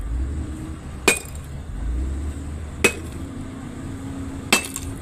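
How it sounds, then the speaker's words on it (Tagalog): A hammer strikes hard rock that rings like metal, three sharp clanking impacts spaced a couple of seconds apart, loud and close over a low outdoor rumble with no talking. "siya po yung batong parang bakal ang tunog"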